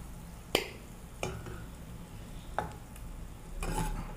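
A spoon scooping sautéed ginger, garlic and onion out of a sizzling pan while cooking egg curry: four or five distinct scrapes against the pan over a steady frying hiss.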